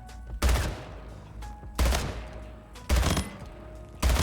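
BR burst rifle firing in Splitgate, four evenly spaced three-round bursts, each a tight, loud, punchy cluster of shots about 1.2 seconds apart, close and free of talk.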